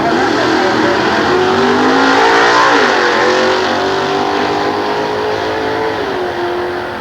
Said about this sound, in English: This is Bill Comstock and his beautiful 41 Willys, 427 cubic inches of Chevrolet